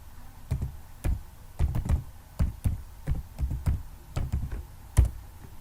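Password typed on a computer keyboard, a dozen or so close, distinct key taps at an uneven rhythm, with a few firmer thunks like the enter key.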